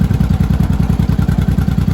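A motorcycle engine idles up close, a steady rapid chugging pulse that holds even and loud throughout.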